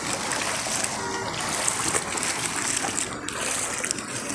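Dirty floodwater on a main road flooded by the monsoon splashes and churns steadily and close by, with a continuous wet sloshing texture and faint traffic hiss behind it.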